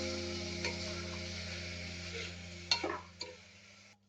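Onion and tomato sauté in a pressure cooker with salt for an egg biryani, giving a quiet, steady sizzle with a few soft stirring scrapes and clicks near the end.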